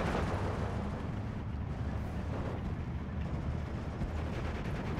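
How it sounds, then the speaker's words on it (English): A barrage of rocket and Werfer artillery strikes rumbles across Flak gun positions in the wartime strategy game Steel Division 2, a dense, continuous roar of overlapping blasts lasting several seconds at steady loudness. "this could be a devastating Werfram and rocket strike coming in here onto the two Flak"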